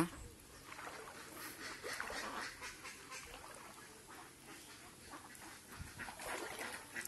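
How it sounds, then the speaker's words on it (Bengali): Ducks on a fenced farm pond quack faintly in scattered bursts at a distance, over soft outdoor background noise. "এরকম ভাবে আমরা হাঁস পালি।"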